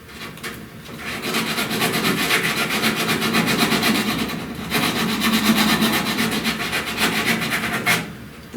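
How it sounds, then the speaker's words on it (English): Steady rhythmic rasping of 80-grit sandpaper on a sanding block worked back and forth across a car fender panel edge, close and continuous, with a brief pause midway. "I'm gonna sand hard against the edge till I hit bare metal"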